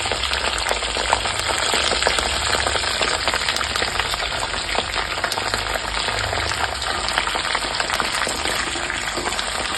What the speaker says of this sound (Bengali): এবার আমি এই তেলের মধ্যে এই গোটা গোটা শিমগুলোকে দিয়ে দেবো